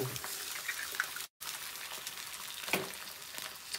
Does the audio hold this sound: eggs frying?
yes